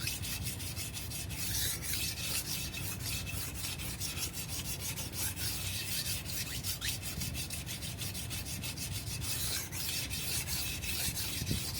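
A single-bevel kitchen knife is drawn in long, even strokes across a sharpening stone, making a continuous gritty scraping that repeats in a steady rhythm. Nobody speaks.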